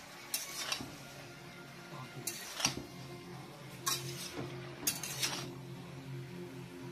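A vegetable curry seasoned with black salt is stirred in a pan, with a few soft scraping, clattering bursts of the spoon against metal over a quiet background.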